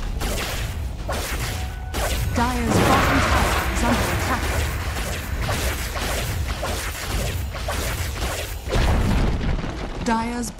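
Tower crumbling in Dota 2 amid a busy fight, heavy booms and crashing impacts spread over several seconds with clashing effects, all layered under a speaking voice.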